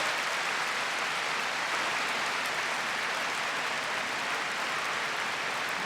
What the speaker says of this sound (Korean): 서로 축복의 박수를 하십시다. 本当にお互いに祝福の拍手をしていきましょう。